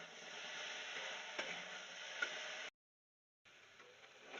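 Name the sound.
flat beans frying and being stirred in a pan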